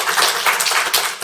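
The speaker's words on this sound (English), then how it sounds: "please give John and Sandy a round of applause." An audience gives a round of applause at a talk on health data, a steady wash of many hands clapping together, close and fairly loud, with no talk over it.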